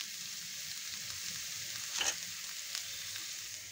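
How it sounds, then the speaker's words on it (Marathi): A wet misal masala paste of ground coconut and coriander is sautéed in oil, making a faint, continuous hiss of frying with a soft stirring scrape partway through. "आता हे पण परतून घ्यायचं आहे तेल सुटेपर्यंत"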